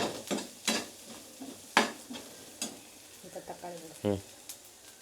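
Oil sizzles in a pan as ingredients are stirred and sautéed until golden brown for a bread paneer snack, with scraping utensil strokes, clinks of a pan and brief bursts of nearby speech.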